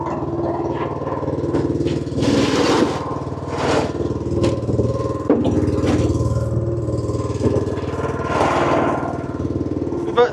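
Boat engine running with the choke on during a beach launch for drift herring netting, a loud steady throbbing drone with clattering knocks and rising surges, up close.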